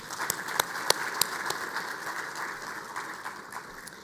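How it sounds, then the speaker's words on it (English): Audience applause after a governor's presentation at a monetary policy event, a steady wash of clapping from a room with a few sharper individual claps standing out near the start. "A round of applause for that, please."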